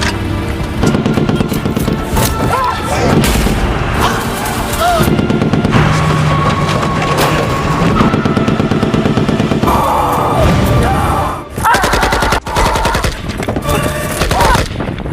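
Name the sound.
film gunfire shooting at an ambulance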